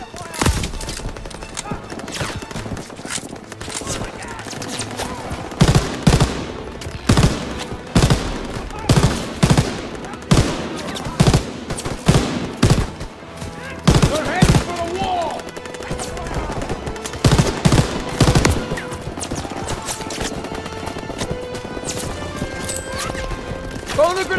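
Machine gun fire in the World War II shooter Call of Duty WW2 during a D-Day battle: loud, repeated bursts of rapid gunfire over chaotic battle noise, with shouted voices mixed in.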